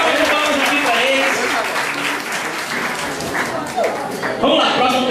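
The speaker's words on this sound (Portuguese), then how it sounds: "Muito bem, salve de palmas aqui para eles." Audience applause at a church small-group (PG) presentation in Florânia, a dense steady clapping that fills the room, with voices and cheers mixed in throughout.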